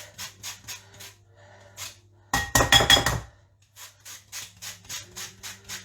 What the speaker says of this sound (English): What you want to do now is take a clementine. You can get an orange if you want, but these are sweeter, so a bit nicer. Just grate the zest.